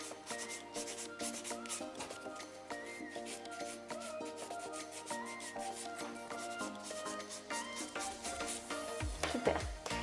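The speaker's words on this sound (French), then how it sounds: "je vais simplement matifier toute ma capsule" A nail file rubs an acrylic nail tip to a matte finish, producing steady, close scratchy sanding strokes over continuous background music.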